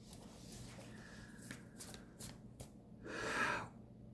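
Tarot cards are handled and shuffled with soft paper rustles, then a brief, fuller riffle of cards near the end, all quiet and close.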